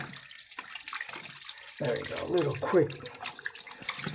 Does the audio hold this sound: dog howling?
no